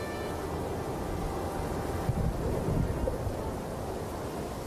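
A vicious southerly storm roars in a steady rush of wind and rain, with a slightly louder gust swelling midway, and no voices.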